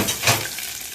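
A hot tasha topping hits the pot with a sharp, loud sizzling burst, which quickly settles into a softer, fading hiss.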